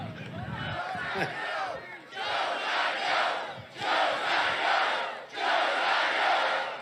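A large Nebraska rally crowd chants "Joe's gotta go" in four loud, rhythmic bursts, each separated by a brief dip, with a shout near the start.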